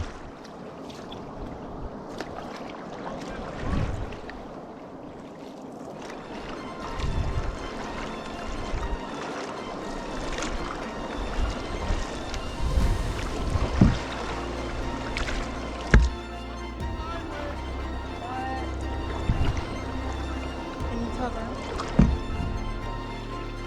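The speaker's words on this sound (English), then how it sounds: "In that canal or in that wake where all those waves are just bouncing against each other." Waves slap and splash against a canoe paddling through choppy wake water off Isle Royale. Irregular sloshing builds in bursts, with several sharper splashes against a steady watery background.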